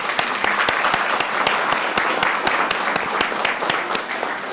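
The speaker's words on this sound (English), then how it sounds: "Let's give them a round of applause." A room applauds a Boy Scout troop at a city council meeting, sustained group clapping with sharp individual claps standing out at an even density, fairly loud and close, with no talk over it.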